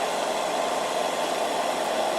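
Cessna 172 engine in Microsoft Flight Simulator 2020 as the throttle is pushed up, a loud steady droning hum with a broad rushing noise layer, continuous and unbroken.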